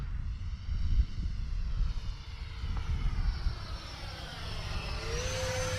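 An FMS F-16 electric ducted-fan RC jet with a 64mm fan makes a steady, fairly loud whooshing whine as it passes at half throttle into the wind, with the pitch sliding down near the end as it flies by.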